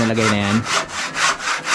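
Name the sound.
saw cutting wood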